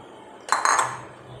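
Melted jaggery syrup poured into a halwa mixture, heard as a brief close clatter of a metal utensil against the pan, lasting under half a second before quiet background.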